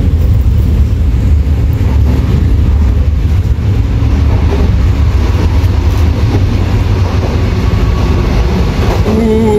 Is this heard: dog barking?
no